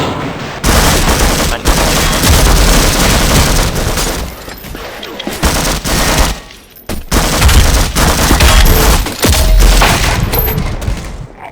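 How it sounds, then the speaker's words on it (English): Combat shotgun with an attached grenade launcher firing in Half-Life custom maps played in Garry's Mod, a dense, loud run of blasts and booms filling the clip with only brief pauses around the middle. "one grenade with my shotgun grenade launcher, the combat shotgun."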